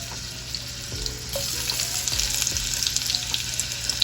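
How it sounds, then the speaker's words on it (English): Marinated beef browning in a hot pan sizzles and fries steadily at close range, with occasional stirring scrapes and no talking. "So we're just going to brown it on all sides."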